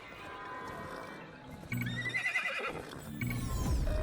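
A horse in the Minecraft Legends video game gives a loud, close whinny, then breaks into quick galloping hoofbeats that continue to the end, rising sharply out of a quieter game background.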